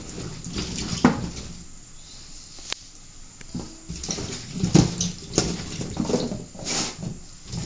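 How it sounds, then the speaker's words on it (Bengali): Cut cauliflower and potatoes are washed by hand in a home kitchen, giving close, irregular splashes and sloshing water with a few sharper clatters of pieces being handled. "আমি এখন এই আলু এবং ফুলকপিগুলোকে ভালো করে ধুয়ে নেব।"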